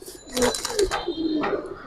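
Giribaz and coloured pigeons give a few close, throaty coos in short repeated bursts with brief gaps, bright and clear against a quiet background.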